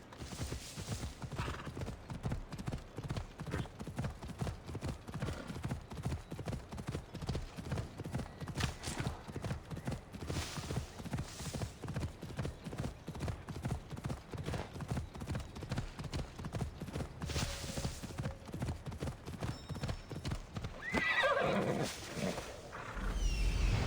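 Rapid rhythmic hoofbeats of a galloping horse in Assassin's Creed Odyssey, steady and continuous, with a snort or whinny near the end.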